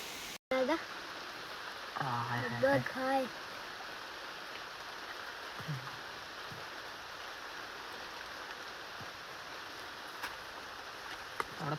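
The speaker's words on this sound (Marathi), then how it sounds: "कारण की पाऊस पण आलाय आता" Rain falls outdoors on a riverbank during a fishing outing, a faint, constant wash of hiss throughout, with brief voices early on.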